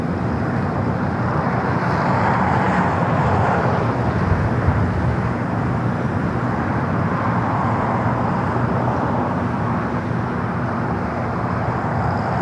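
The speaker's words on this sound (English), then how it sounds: "this brand new Airbus A220-300. This aircraft delivered in November of last year. Marching down at taxiway Bravo, heading down the 25 at right" A brand new Airbus A220-300 jet taxis along a taxiway at LAX, its engines giving a continuous whooshing roar that swells gently and stays steady at moderate distance, with no talking.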